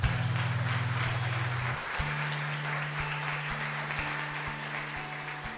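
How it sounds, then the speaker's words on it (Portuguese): Church congregation applauding the Lord at an evangelical service, a steady wash of clapping with a low sustained organ or keyboard chord underneath, fairly loud and continuous. "Você pode aplaudir o Senhor?"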